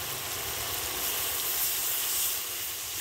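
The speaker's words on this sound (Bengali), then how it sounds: "এই পর্যায়ে আমি মশলার মধ্যে পরিমাণ মতন জল দিয়ে দেবো গ্রেভির জন্য" Water poured into bubbling fish curry masala in a hot pan for gravy raises a loud, steady hiss of steam and sizzle, close and continuous with slight swells, and no voices over it.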